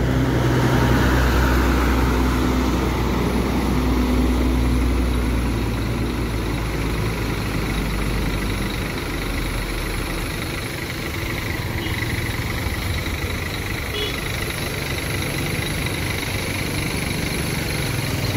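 A coach bus idles in a crowded parking area, its heavy diesel engine holding a steady deep rumble throughout, with a broad hiss of surrounding noise.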